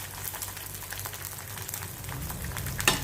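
An egg fries in a pan with a soft, steady sizzle and light bubbling, fairly quiet and close, a sharper click near the end.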